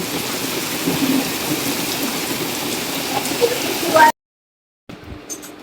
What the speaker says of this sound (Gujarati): ચોમાસા જેવો વરસાદ આવે છે.